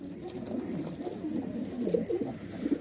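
Pigeons in a fancier's loft coo close by in soft, low, rolling calls that overlap continuously, with a few clearer coos standing out near the end.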